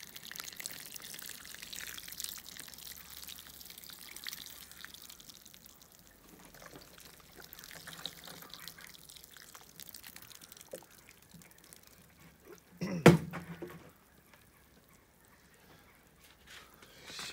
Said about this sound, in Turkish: Suyu çok yukarıdan değil de biraz toprağa yakından serpiyoruz